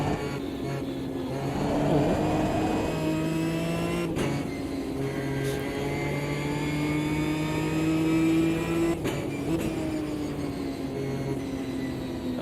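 Race car engine in a sim racing game, holding a steady droning pitch with gradual rises and dips as revs change, continuous and fairly loud, with no talking over it.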